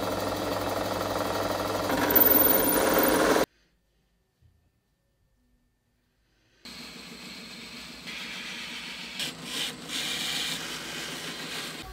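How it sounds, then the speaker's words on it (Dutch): Cutting an M4 thread into a metal part for a small four-stroke engine build gives a steady grinding, rubbing whir, which stops for a few seconds of silence and then resumes with scraping and clicks. "Daar ga ik M4 in tappen."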